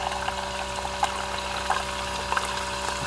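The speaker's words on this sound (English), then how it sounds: "now it's just water, but it's still rinsing it out" A Ninja Thirsti seltzer maker rinses itself out with plain water, giving a steady loud pouring and pumping rush with faint gurgles and small splashes throughout.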